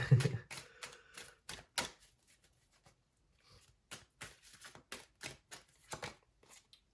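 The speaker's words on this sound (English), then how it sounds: "So I'm going to pull a card for your overall energy." Tarot cards being shuffled and drawn up close, a run of quick dry riffling snaps and soft slides in irregular bursts with short quiet gaps, fairly faint and with no voices.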